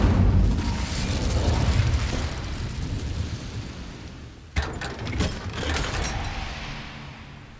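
Incendio fire spell cast in Hogwarts Legacy: a roaring whoosh of flame that fades, then a sharp burst and crackling flare, followed by a second swelling rush of fire.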